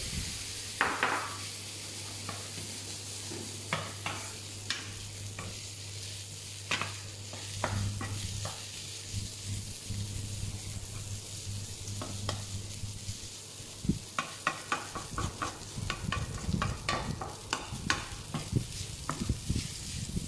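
Pasta is tossed in a hot pan with chilli flakes. It sizzles steadily while a utensil stirs and scrapes in repeated clattering bursts, with no talking.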